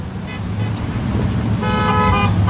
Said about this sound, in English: Honk your horn if you really believe in that.